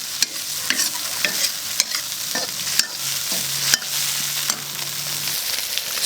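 Chili peppers stir-fry in a wok, a steady sizzle broken by sharp metallic scrapes and clanks of the spatula at irregular intervals, close up with no voices.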